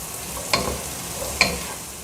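Beans, carrot and peas sautéing in a pan: a low, steady background sizzle broken by two brief, sharp stirring scrapes about a second apart.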